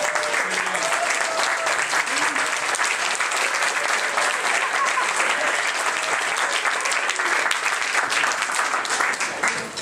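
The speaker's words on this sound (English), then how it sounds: "let's give a nice round of applause for being here today" A large audience claps in sustained, dense applause at a comics program event featuring Mike Mignola, steady and loud for nearly ten seconds without a break.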